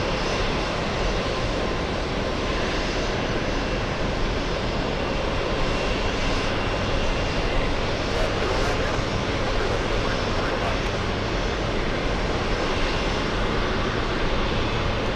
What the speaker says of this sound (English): We also have the Japanese A350-1000 taxiing in front of us.